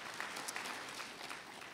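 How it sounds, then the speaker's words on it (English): Steady audience applause from a church congregation, many hands clapping together in a continuous dense patter, heard from a distance and fairly soft. "you can clap for them"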